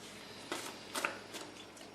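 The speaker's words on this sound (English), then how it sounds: "let's go ahead and shuffle the cards here" Tarot cards being shuffled by hand, a few soft, faint riffling swishes spaced out in a quiet room.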